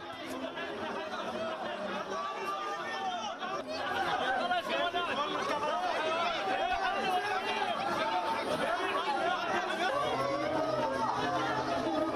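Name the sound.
crowd chanting at a funeral in Gaza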